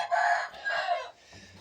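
A Hint (Indian game) rooster lets out a short, loud crow close by, a harsh drawn-out call that breaks off into a low murmur.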